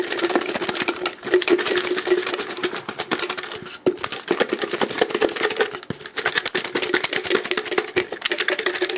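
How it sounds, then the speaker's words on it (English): A lidded box of giveaway entries is shaken by hand, giving a continuous close rattle of rapid clicks and papery rustles in uneven bursts, with no talking. "To shake it up with my left hand so my watch can get wound up"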